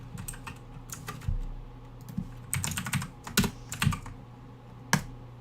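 Code being typed on a computer keyboard, close clusters of quick key clicks in uneven bursts with short pauses between.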